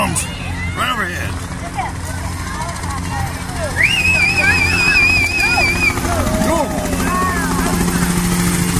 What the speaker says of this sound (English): Helicopter, here it comes. Right over here.